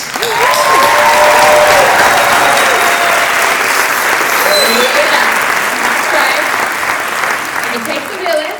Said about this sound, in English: let's get a round of applause for all the family